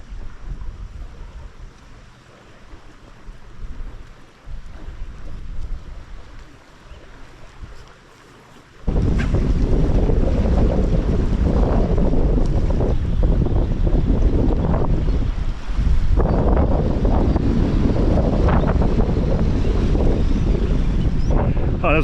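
A strong headwind at a harbour on an incoming tide, loud gusting that buffets the microphone and turns into a dense, continuous roar partway through.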